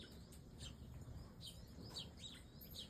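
Sparrows chirp in short, repeated high tweets, several scattered calls over a faint low background, moderately distant and soft.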